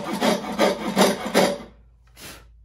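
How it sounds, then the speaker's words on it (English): A hand coping saw cutting through wood, four loud rhythmic rasping strokes close up, a short pause, then one more stroke. "I'm going to keep sawing following this line"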